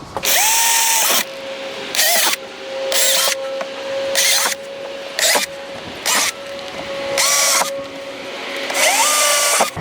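Power drill opening up mounting holes for a Maxton rear diffuser on a Mk7 Volkswagen GTI, repeated loud whining bursts of varying length with the motor winding up and down between them.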